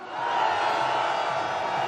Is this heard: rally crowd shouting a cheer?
yes